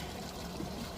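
Fuel pouring through a funnel, a steady liquid trickle and splash running continuously for a short moment with no talking over it.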